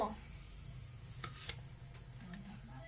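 Roti frying slowly in oil over low heat gives a soft, quiet sizzle and bubbling with a low rumble, a few faint scraping stirs breaking through, all close and subdued.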